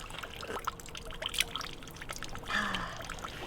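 Water from a mountain spring in the Austrian Alps pours and trickles steadily outdoors, a soft continuous splashing at low level that swells briefly near the end.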